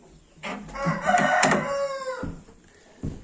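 Breeding hens cluck and a rooster crows close by, one loud drawn-out crow rising over soft clucking, with a brief squawk near the end.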